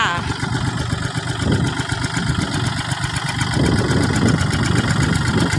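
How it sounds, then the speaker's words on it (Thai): A used Kubota L3608 diesel tractor engine idles steadily and loud, a low rumbling chug throughout, with faint voices mixed in. "วันนี้ทางร้านมีรถไถคูบต้าเอล สามหกศูนย์แปดมานำเสนอนะคะ เครื่องดีเกียร์ดี"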